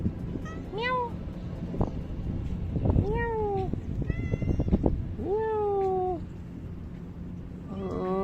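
A house cat meows repeatedly in rising and falling calls, close and clear, with handling noise and faint background sounds between the cries.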